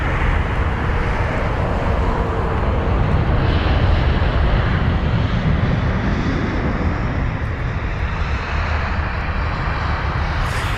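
A Turkish Airlines Airbus A321neo jet at London Heathrow gives a steady, broadband engine roar that holds loud and constant throughout, with no voices over it.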